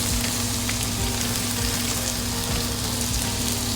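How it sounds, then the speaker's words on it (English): Butter sizzles on a hot griddle while smash burgers cook, a steady, loud frying hiss with crackling pops that runs throughout without talk. "Cooking on the griddle is so easy. Just put some butter here."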